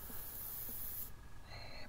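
An airbrush spraying paint onto a part of a Trumpeter 1:200 Titanic model, a steady close hiss of air that cuts off after about a second, followed by a faint tonal whine.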